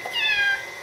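A single short cat meow, close and clear, rising and falling over less than a second.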